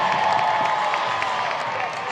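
A full-capacity stadium crowd at a Savannah Bananas versus Party Animals baseball game in Fresno, a steady roar of cheering and applause under commentary.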